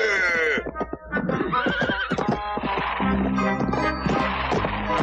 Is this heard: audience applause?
no